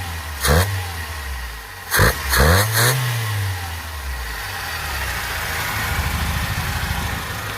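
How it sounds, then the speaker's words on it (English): A 1988 Toyota Corolla FX engine with a newly installed carburetor blips through several sharp revs early on, then settles into a steady, even idle for the remaining seconds, close and clear. "it revs clean, idles great"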